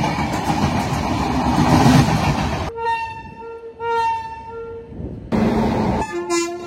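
The Coromandel Express train on an Indian railway rumbles loudly past close by, with sustained horn blasts sounding over the clatter of the coaches.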